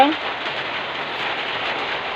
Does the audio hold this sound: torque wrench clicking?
no